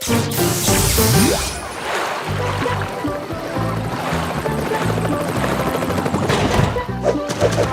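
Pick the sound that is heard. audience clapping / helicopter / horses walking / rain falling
helicopter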